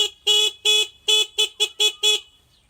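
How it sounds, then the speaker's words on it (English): Supermoto motorcycle horn honking in a series of seven short, loud toots with uneven gaps, the first few longer, sounding close with nothing else behind it. "I heard someone else honking in the distance, so I had to honk back"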